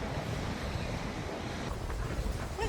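Strong wind in a park buffets the microphone in a constant low roar, with a rushing, surf-like texture throughout.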